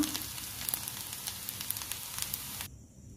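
Mango pulihora rice frying in a pan gives a steady, close sizzle with a few light crackles, then cuts off abruptly near the end.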